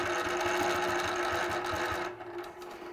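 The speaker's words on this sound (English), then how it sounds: "So I'm going to line both sides up, stitch down to that point," A sewing machine stitches a quilt along a quilting template in a fast, steady whir of needle strokes, close and continuous for about two seconds before slowing and stopping.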